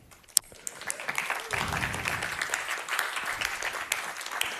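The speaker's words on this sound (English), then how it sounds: "Now you've started clapping, everybody gets a clap" An audience at a climate hub conference breaks into clapping, a few isolated claps at first swelling into steady moderate applause that continues to the end.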